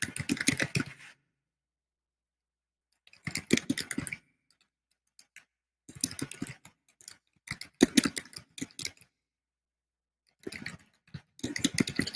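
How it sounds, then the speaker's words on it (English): Typing on a computer keyboard, heard close up as bursts of rapid clicking keystrokes separated by pauses of silence, with no talking. "I'm just typing in my little tagline so people can follow along"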